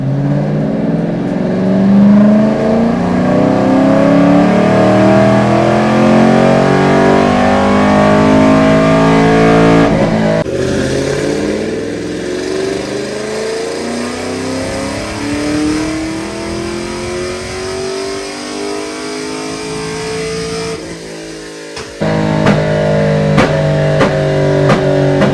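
A BTR Stage 3 LS3 Camaro running E85 revs hard through a dyno pull, its loud engine note climbing steadily in pitch, dropping briefly, then rising again before cutting off abruptly into crackling pops.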